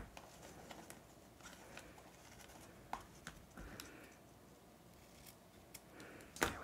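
Scissors snip the ribbon ends off a bow on a handmade paper gift pouch, a few quiet, sparse clicks and cuts close by in a soft room, with no talking.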